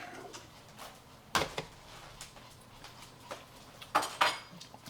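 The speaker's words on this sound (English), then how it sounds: "I get a spoon out and kind of taste this" A metal spoon clinks against a pot of chili during tasting, with a few sharp, scattered clinks and scrapes at close range over quiet kitchen background.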